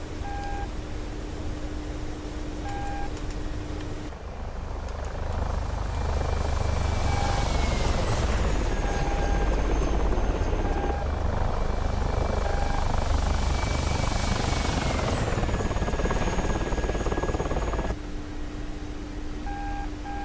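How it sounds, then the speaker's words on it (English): A Soviet military helicopter in a flight simulator game gives a steady, loud rotor and turbine drone that swells and holds for most of the stretch, with occasional electronic beeps over the engine noise. "Definitely the most iconic Soviet chopper."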